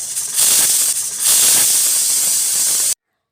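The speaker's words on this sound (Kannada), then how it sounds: "ಕುಕ್ಕರ್ನ ಕ್ಲೋಸ್ ಮಾಡಿಬಿಟ್ಟು 2 ವಿಷಲ್ ಹಾಕ್ಸ್ಕೊಳ್ಳೋಣ" A pressure cooker cooking ghee rice lets off a loud, steady steam hiss at close range. It wavers briefly near the start, holds for about three seconds, then cuts off abruptly.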